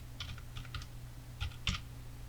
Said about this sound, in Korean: 필요한 내용을 타이핑해 주세요.